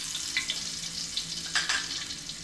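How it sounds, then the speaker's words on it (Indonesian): Ground spice paste sizzles steadily in hot vegetable oil in a pan, with a faint stirring scrape now and then, continuous and close. "Pertama-tama kita akan tumis bumbu yang sudah kita haluskan"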